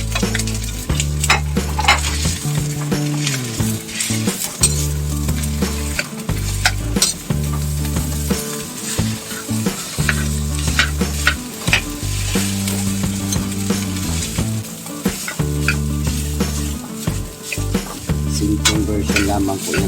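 Leftover rice is stir-fried in a pan with garlic and onion, loud and close. A steady sizzle runs under regular scraping and clanking from a spatula or spoon against the metal pan, with no talking.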